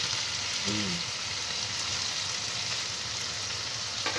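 Bhetki fish paturi wrapped in pumpkin leaf frying in a covered pan, a soft, even sizzle throughout with a brief faint voice early on.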